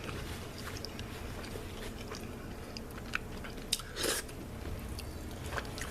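Someone chews a mouthful of smoked sloppy joe close up, soft wet mashing with a few crunchy bites and a louder chomp near the end, quiet and steady without speech.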